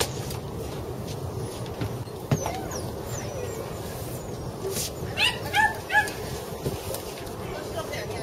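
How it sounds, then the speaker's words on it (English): Small dogs whimper and give a few yips and barks aboard a private jet bound for Canada, the sounds scattered over a steady cabin hum, with voices talking in the background. "Special day for these doggies."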